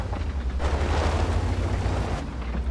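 A tank gun in World of Tanks fires a deep booming shot, a heavy low rumble swelling and fading over a few seconds, loud and alone with no talk.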